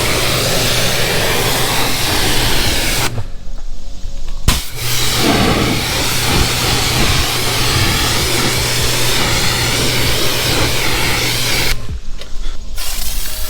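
A pressure washer rinses foam off a car, a loud continuous hissing spray heard up close, with the pump hum running underneath and two short pauses where the trigger is released.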